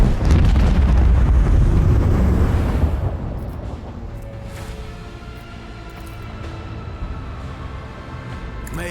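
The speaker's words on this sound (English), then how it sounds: "These are the torpedoes." Torpedo salvo detonations in Warhammer 40k: Rogue Trader hit as a loud rumbling burst of explosions for about three seconds, then fade into a lower, lingering roar with scattered crackles.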